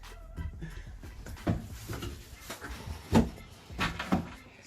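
A wardrobe drawer is handled in a house, giving a series of knocks, slides and soft wooden bumps, with a couple of louder thuds near the end.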